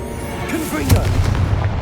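A Confringo blasting spell goes off in the Hogwarts Legacy video game, a loud booming explosion with a sharp crack near the middle and a rumbling tail, while a voice calls out faintly underneath.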